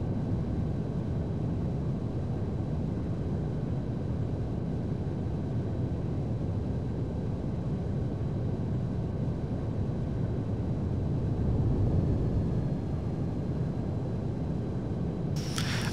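Fighter jet engines idling during a steep dive in the LockOn FC2 flight simulator, a steady low rumbling roar with a faint thin whine above it, unchanging and alone.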